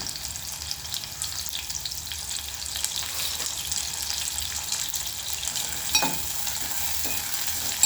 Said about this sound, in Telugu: ఇప్పుడు ఉల్లిపాయలు, పాలకూర ఫ్రై అండి, ఇది పప్పు కాదు, ఫ్రై.